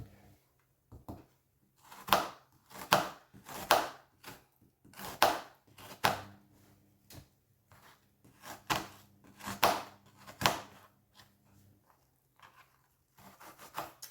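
A piece of onion being chopped with a knife on a board, a steady run of sharp close knocks in short bursts with brief pauses between them.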